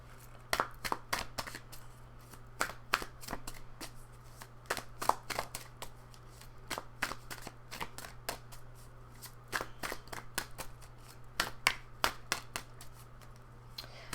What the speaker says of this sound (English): And I do just kind of shuffle until a card pops out.